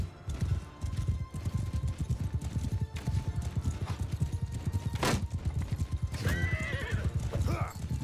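Rapid galloping hoofbeats pound steadily, with a sharp horse neigh and whinny rising toward the end, in the video game Mount & Blade II: Bannerlord.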